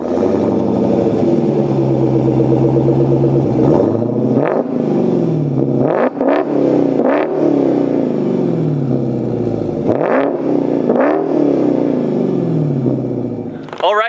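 A 2019 Dodge Challenger Hellcat Redeye revs repeatedly, the throaty dual-exhaust roar rising and falling in several sharp bursts over a constant rumbling idle.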